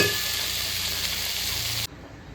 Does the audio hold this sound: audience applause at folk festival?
no